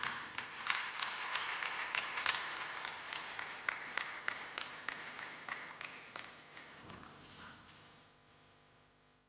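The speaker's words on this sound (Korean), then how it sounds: "여러분 환영의 박수 부탁드립니다." An audience at an AI technology summit in a conference hall applauds to welcome a speaker. Many hands clap in a dense, steady burst that slowly thins and fades toward the end, with no voices.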